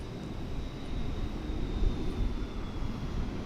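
A departing airliner at Dallas/Fort Worth Airport gives off a low, broad engine roar that rises slightly and holds steady, heard from a distance with no voices.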